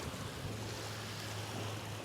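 Ocean waves wash steadily onto a beach in a broad, continuous surf roar, with some wind noise against the microphone and no voices.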